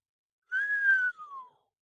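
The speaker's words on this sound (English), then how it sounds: "I whistled." A lone whistled note slides gently upward, holds, then drifts downward and trails off, about one second long, close and clear against silence.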